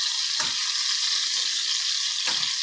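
Shrimp seafood boil cooking over an open grill fire, giving a steady broadband sizzle with a couple of brief stirring or scraping sounds, close and continuous, with no speech.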